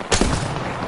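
A short burst of gunfire in the video game Apex Legends cracks sharply, close and loud, over a noisy wash of game sound, with no talking.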